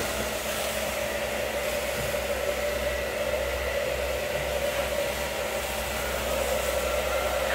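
A steady, loud hot-air roar from a hair dryer filling a large trash-bag solar balloon continues without pause, an even whoosh with a faint tonal whine and no voices.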